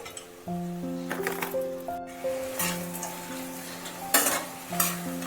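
Cashews, green chillies and a large red chilli are stirred in a sizzling pan, with a steady fry and scraping spoon strokes, and a few sharper clinks under the sizzle.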